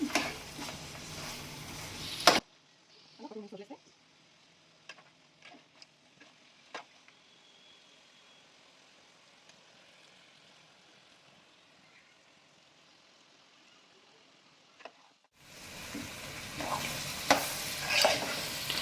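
Chicken masala with chili powder is stirred in a pan, with soft scraping and a low sizzle. The stirring is quiet through the middle, with louder bursts of activity at the start and end.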